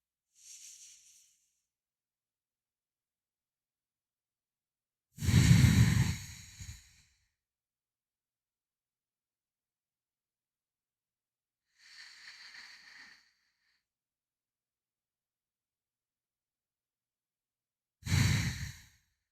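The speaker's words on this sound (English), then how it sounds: "5 breaths in, holding at the top, releasing for 5, and then holding for 5" Slow, deep box breathing: long audible breaths in and out, separated by several seconds of silence, with a heavier exhale in the middle, close and quiet, no talking.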